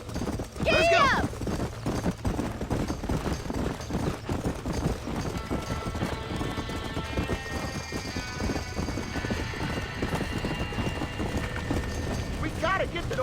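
Horses gallop through a burning barn in Red Dead Redemption, their hooves clattering in a fast rhythm under shouted voices, with a horse whinnying near the start and again at the end.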